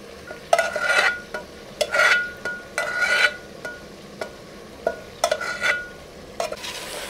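Goat head meat and tomatoes cooking in a pan, with a spoon stirring in several short, scraping bursts over a steady low sizzle, close and fairly loud, with sharp knocks against the pan between strokes.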